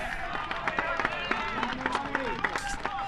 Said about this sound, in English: Now that's the biggest cheer we've heard in a long while